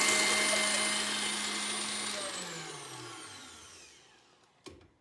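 An electric mixer running on a dessert filling winds down, its high whine and hum slowly falling in pitch and fading out, followed by a brief knock near the end, close and without talk.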